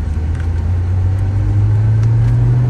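A 2002 Porsche Boxster drives along with a steady, close low engine hum and road rumble, no talking.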